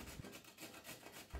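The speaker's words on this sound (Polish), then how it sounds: "Teraz nasze marchewki będziemy ścierać na tarce na grubych oczkach." Carrots grated by hand on the coarse side of a box grater for carrot cake, a soft continuous rasping scrape in steady strokes, close and quiet with no talk.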